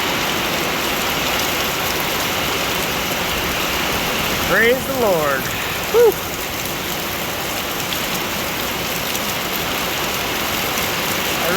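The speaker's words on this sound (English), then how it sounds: "Hopefully it's just heavy rain." Heavy rain pours in a steady, dense hiss, with someone briefly speaking and exhaling over it partway through.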